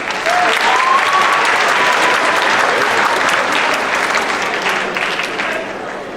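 Sustained applause from an audience at a Black History Month presentation, honoring a performer who won the Hartford's Got Talent semifinals. The dense clapping holds steady and loud throughout, with a few voices calling out over it.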